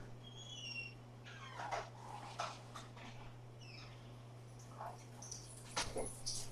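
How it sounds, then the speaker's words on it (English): Dogs left outside whimpering, heard as several short, high whines and yips scattered over a few seconds, faint and somewhat distant over a steady low household hum. "I'm gonna let my dogs in. They've been outside for a while."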